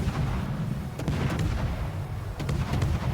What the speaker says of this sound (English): Decided to throw torpedoes at me.